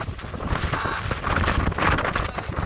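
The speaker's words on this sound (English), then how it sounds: "So, being in the wind." Wind blowing on an outdoor country walk near Cissbury Ring, buffeting the microphone with a continuous loud rumbling roar that surges and eases in gusts.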